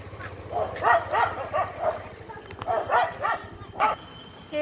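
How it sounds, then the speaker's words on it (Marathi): Neighbourhood dogs in a residential colony bark at a dog from another colony, several rapid bursts of barks and yips at mid distance over a low background hum. "ते कॉलनीतले कुत्रे दुसऱ्या कॉलनीतल्या कुत्र्याला भुकत आहेत"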